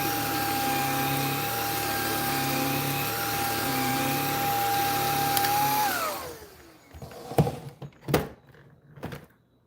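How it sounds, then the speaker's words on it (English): A household vacuum cleaner runs loud and steady near Bernedoodle puppies being desensitized to it, its tone dropping as it switches off around six seconds, followed by a few scattered thumps and knocks. "Vacuum."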